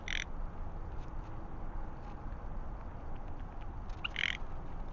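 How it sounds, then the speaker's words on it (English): A magpie calls outdoors, two short harsh squawks at the start and near the end, fairly distant and faint over a steady low background hiss. "Here comes a magpie."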